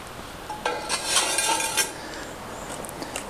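An adjustable metal support post being flipped around on a cabin floor framing job, giving a few light metallic clinks and rattles, close and moderately loud, no speech.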